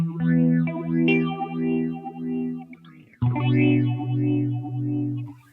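Behringer Bi-Phase phaser with its two phasers synced, processing sustained synth-like tones whose sweeping, whooshing notches rise and fall in slow waves, cut briefly by a pause near the middle before a louder swell, with no talking.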